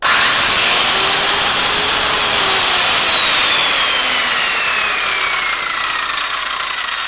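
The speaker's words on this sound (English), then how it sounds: "So listen to what happens when I use this power tool." A power tool runs continuously at high intensity, a loud steady grinding whine with a slowly drifting pitch and no pauses.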